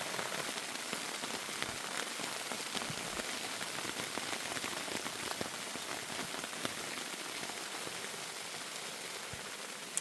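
Hail or icy precipitation pattering steadily outside a campsite at Heart Lake, Idaho, a dense continuous hiss of small impacts with scattered sharper ticks, moderately loud and unbroken, no voices.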